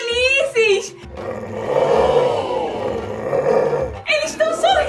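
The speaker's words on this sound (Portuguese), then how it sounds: "Que cachorrinhos felizes!" Wild dogs on an African savanna safari give a rough roaring growl lasting a couple of seconds, close and loud, between bursts of excited voices.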